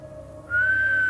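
A man whistles in a TV show scene, starting partway through with a single sustained, clear tone that holds steady and fairly close until the end.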